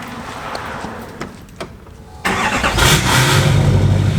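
A 2006 Chevrolet truck with an LBZ Duramax diesel engine cranks and catches at mid-clip, then runs with a loud, rough, close rumble after a few quieter mechanical clicks and whirs, with no talk.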